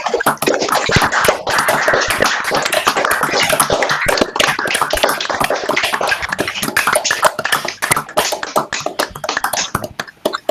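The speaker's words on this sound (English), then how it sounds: "This is everybody's chance to unmute at long last, so we can applaud" An online meetup audience unmuting their microphones to applaud together: dense, sustained clapping from many participants, loud and continuous for about ten seconds with no talking.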